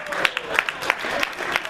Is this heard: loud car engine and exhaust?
no